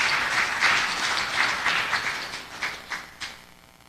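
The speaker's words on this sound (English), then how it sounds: "Put your hands together" An audience at a national fishers conference on agriculture and marine resources gives warm applause as the Prime Minister is welcomed; clapping starts dense and loud, then thins to scattered claps before fading out.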